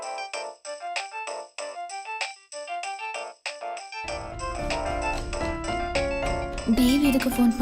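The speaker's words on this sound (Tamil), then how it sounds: "தேவ் எதுக்கு ஃபோன் பண்றாரு?" A mobile phone ringtone chimes for an incoming call in a Tamil TV serial, a repeating melodic tone pattern that continues as background music swells in underneath.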